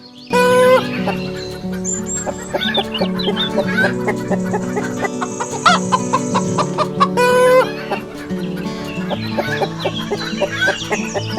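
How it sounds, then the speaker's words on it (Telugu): Hen clucking and squawking in a lively series of calls, close and fairly loud, with a steady musical backdrop running underneath throughout. "కోడి తప్పించుకుంది."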